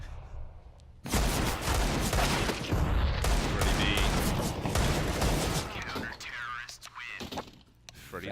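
Rapid bursts of gunfire in Counter-Strike: Global Offensive on the Mirage map during a pro match, dense overlapping shots and explosions filling most of the stretch, loud and close, with a caster's voice talking throughout.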